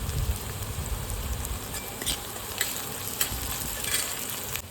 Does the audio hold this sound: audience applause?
no